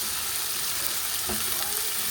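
Okra (ladies finger) fries in a pan with onions and dried red chillies, a loud, continuous broadband sizzle with a single brief knock of a utensil partway through.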